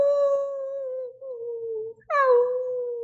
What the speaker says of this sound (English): Did Lucy stop howling? No, Lucy cried